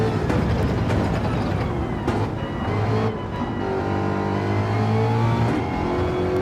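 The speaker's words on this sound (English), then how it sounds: "Boy, that Mustang does sound good," Ford Mustang race car engine in Gran Turismo 7 roars and revs continuously, rising and dropping through gear changes at full throttle, loud and close.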